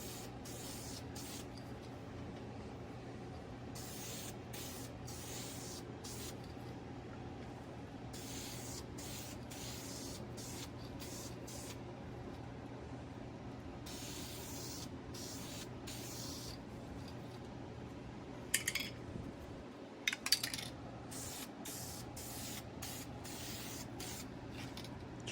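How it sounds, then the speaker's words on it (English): Spray can of primer hisses in repeated short bursts as a coat goes onto a 1:350 Polar Lights USS Enterprise refit model kit, close and steady, with a brief clatter near the end. "shaking up this primer really good again, and we're just going to go ahead and spray another coat on top of this"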